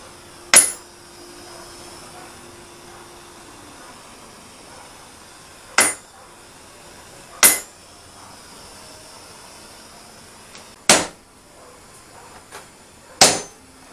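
A hot rasp being forged into a blade, with about six sharp, ringing hammer strikes spaced irregularly several seconds apart, each loud and brief over a faint steady hiss.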